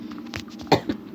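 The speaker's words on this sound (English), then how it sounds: "Sometimes, early in the morning, I get a cough." A short, sharp cough close by, followed by a smaller throaty burst, over a low steady hum.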